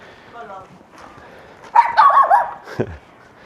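A small puppy named Patch gives a short burst of yappy barks and yips, close and fairly loud, followed by one lower bark, with quiet talk and faint whimpering before it.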